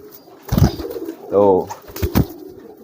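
A pigeon coos in a short rounded burst among brief bursts of nearby speech, a bird kept by a fancier after its eggs were removed.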